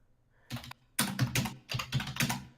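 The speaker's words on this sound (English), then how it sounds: "I can hear him typing now." Typing on a computer keyboard comes through as bursts of quick clicking keystrokes, close and clear, in several short runs separated by brief pauses, with no voices.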